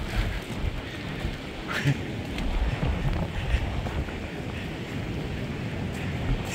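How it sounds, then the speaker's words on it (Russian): A dense, continuous hiss of heavy rain pours down during a storm in Arkhipo-Osipovka, with wind buffeting the microphone and a few faint voices in the background. "Ой-ой-ой, пошел дождь сильный."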